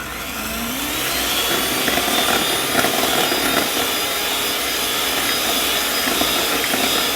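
A mixer beats butter cake batter with milk and vanilla essence in a loud, steady, high whirring drone. The drone holds unbroken from start to finish, near and alone.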